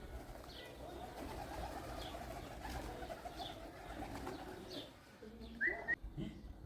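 A pigeon coos softly several times at regular intervals against quiet outdoor background noise, faint and somewhat distant, followed near the end by a brief higher chirp.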